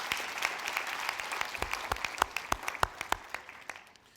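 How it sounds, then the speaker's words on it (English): A graduation ceremony audience claps for guests from partner colleges, a full round of applause that thins into distinct, separate claps and fades out. "give them a round of applause,"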